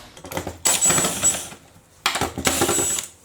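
Screws being undone from the outer edges of a tumble dryer's back panel, heard as two bursts of close, clattering mechanical whirring with a short pause between them, the first longer than the second.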